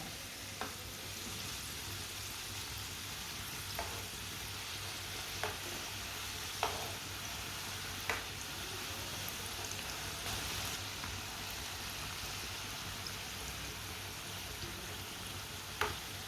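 A homemade roll fries in a pan over low stovetop heat, giving a constant, fairly quiet sizzle with occasional soft clicks and taps from stirring or turning. No one speaks over it.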